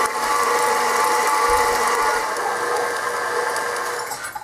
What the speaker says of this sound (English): just going to scrape the sides here and let it mix for another minute or two